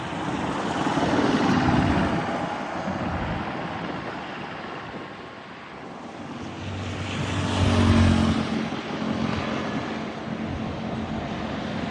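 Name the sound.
traffic on a busy road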